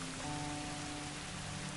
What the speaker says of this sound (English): these rain are real, man. Like if you're playing like the game right now, guys, man, it feels so real